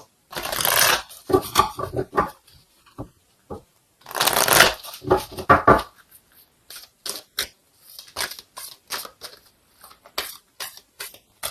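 Oracle cards shuffled by hand, with two long riffling bursts followed by a string of shorter, crisp card flicks and taps, close and clear with no talking.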